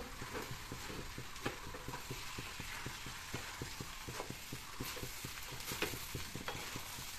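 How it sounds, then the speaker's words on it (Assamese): Rice for pulao being stirred and fried in a pan, with quiet continuous sizzling broken by frequent rhythmic scraping strokes of a spoon, fairly faint and even. "এনেকৈ তলপ কৰি ভাজিব ভাজোতে চাউলখিনি ৰংচঙা হ'ব লাগিব"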